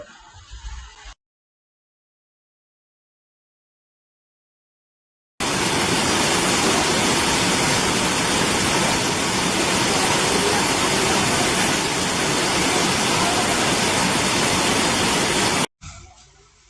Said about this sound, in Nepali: झरनाको आवाजसँगै चराचुरुङ्गीको चिरबिरको आवाजले गर्दा यो ठाउँ निकै आकर्षक हुन्छ।